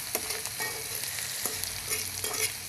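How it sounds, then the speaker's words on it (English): Onions sautéing in a pan with steady close sizzling, broken by a few sharp scrapes and knocks of stirring. "See, the onions are cooking."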